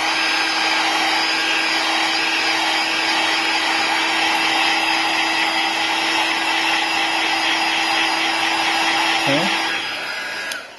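A hot-air tool blows steadily on an iPhone's glass to loosen the wax beneath, a loud, continuous whirring hiss with a fixed motor whine that runs the whole time before cutting off near the end.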